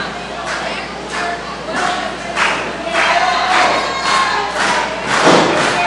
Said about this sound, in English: just absorbing those blows by Justin Zane